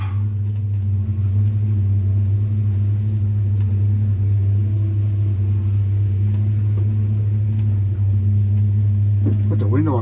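A 1953 Ford F100 hot rod pickup idles in reverse with a steady, loud low engine rumble and drone that holds throughout, close by and without talk.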